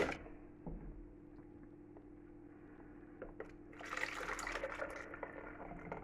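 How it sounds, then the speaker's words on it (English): A liquid mixture for a mascarpone lemon tort is poured into a jug in a home kitchen, a steady splashing fill that swells louder partway through over faint background hum. "Pour this into the jug."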